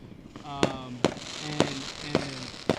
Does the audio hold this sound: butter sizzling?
no